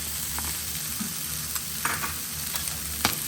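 Chopped onion frying on high heat in a pan along with earlier ingredients, giving a steady broadband sizzle with a few sharp crackles and spatters, close and moderately loud, with no voices.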